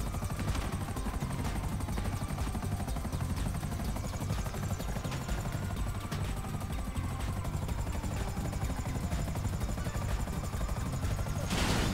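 A helicopter in GTA V comes down in a crash-style emergency landing, its dense rotor and engine roar steady and loud for the whole stretch, with a harder burst right at the end.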